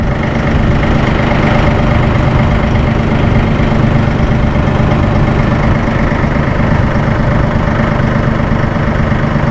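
A Massey Ferguson 1M compact tractor engine runs at a steady idle, a loud, close, continuous diesel rumble with an even throb and no change in pace.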